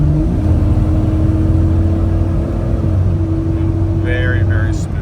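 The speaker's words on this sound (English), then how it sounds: "give it a pretty decent acceleration just so you can see the transmission and engine" A Jeep engine hums and rises steadily in pitch as it accelerates, a smooth continuous drone with a faint whine near the end.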